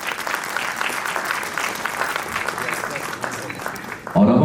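Loud, sustained applause from the audience at a university regional convocation in Srinagar, a broad wash of clapping that fades slightly before a voice cuts in at the end.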